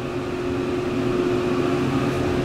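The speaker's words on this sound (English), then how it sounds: "I can barely even hear that motor over that loud fan" A ThyssenKrupp hydraulic elevator motor, low on oil, hums steadily beneath a loud fan, with the two blending into a constant droning roar that has faint tonal whine lines and no pauses or talk.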